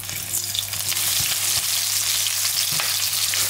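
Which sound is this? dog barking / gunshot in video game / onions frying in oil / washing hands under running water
onions frying in oil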